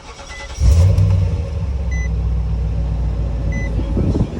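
A 2012 Nissan Titan SV King Cab 4x4 pickup engine cranks and catches, then settles into a steady, loud idle, with faint beeps and passing road noise in the background.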